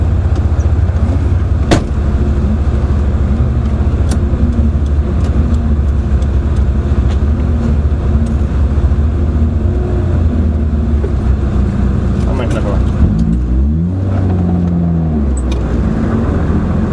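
Rally car engine at an evening rally stage, a steady loud drone of driving with a rising rev sweep near the end, heard close and continuous without speech.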